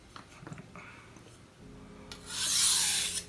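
A knife stroked back and forth on wet sharpening stones, soft scraping rubs building to a louder, longer hissing stroke near the end.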